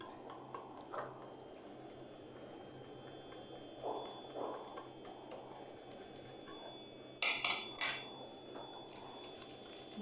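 A utensil mixes cheesy potato fries ingredients in a bowl, giving faint scraping and light clinks over a quiet background, then a louder burst of clattering near the end, with no talk.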